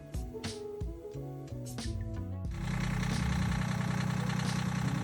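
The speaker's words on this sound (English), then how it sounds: "Rick managed to clear the blockage in no time and got the engine started." A sailboat's engine runs steadily once a blockage in the fuel tank line has been cleared. Its close, even mechanical chugging takes over after a few seconds of irregular clunking and knocking.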